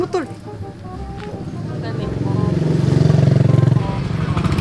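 A motorcycle passes on a road, its engine building from a low murmur to a loud, close, pulsing drone that peaks and then eases, while people talk over it.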